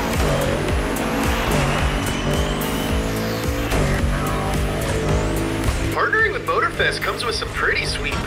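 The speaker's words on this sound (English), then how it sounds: "someone woke up in a new Bugatti" A Bugatti in The Crew Motorfest video game drives with a continuous engine roar and tire noise, overlaid with bursts of game sound and what seems to be speech toward the end.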